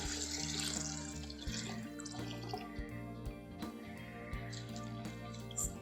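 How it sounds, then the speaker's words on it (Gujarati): Sago pearls being rinsed by hand in a bowl of water, a steady running-tap and sloshing wash with small drips and splashes, close and continuous without talk. "સાબુદાણાને આપણે ચારથી પાંચ પાણીએ ધોઈ લેવાના છે"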